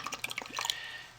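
Fragrance oil for a satsuma orange soap being poured into the main soap batch, heard as a brief run of close, soft drips and liquid splashes.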